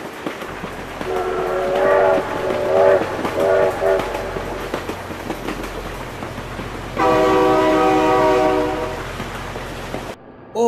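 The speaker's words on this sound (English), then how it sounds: "Oh my God, train!" A train rolls past in BeamNG.drive, a loud steady rumble with two long blasts of its horn, the second held for several seconds before cutting off sharply.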